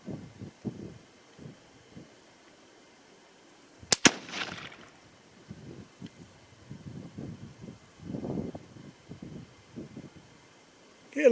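A single sharp rifle shot from a Tikka T3x ACE Game in 22-250 Rem cracks out loudly amid quiet outdoor ambience, framed by faint scattered handling noises and soft wind before and after.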